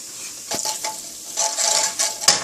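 Cabbage tossed into a hot pan with salt and garam masala for a cabbage and peas sabzi, giving a few soft sizzling bursts and scraping stirs of a spoon against the pan, close and moderately loud with no talking.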